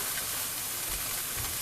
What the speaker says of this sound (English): so we preheated our pan so you can hear it maybe hopefully sizzling.